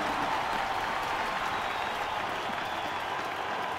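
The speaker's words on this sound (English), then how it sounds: "One more big round of applause in honor of the life of Eb Clifton." Dense, sustained applause from a crowd at a race track on race night, a steady wash of clapping filling the whole stretch with no break.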